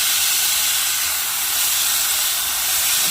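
Pork chops on a woodfire grill give off a loud, steady, broad hiss as they are flipped, a constant sizzle with no breaks.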